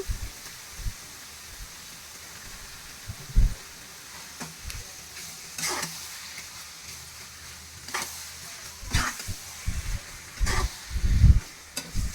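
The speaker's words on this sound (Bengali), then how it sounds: "আমি মাংসগুলো দিয়ে দিচ্ছিলাম প্যানে" A soft, steady sizzle of beef frying in a pan fills the background, with intermittent scraping and clattering as the meat is stirred.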